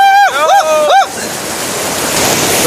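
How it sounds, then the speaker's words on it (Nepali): Water rushes under strong pressure at a river crossing near Fatepur, where people have waded in. A voice briefly sounds at the start, then a steady broadband roar of flowing water continues, close and loud. "यी पानीको प्रेसर हेर्नु कति छ"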